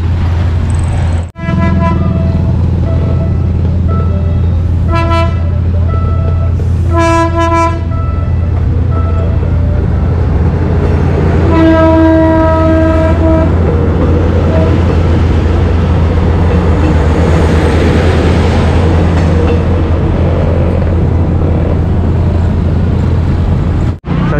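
A loud PNR train in the Philippines rumbles past nearby, a steady low roar with several horn toots sounding in short bursts along the way.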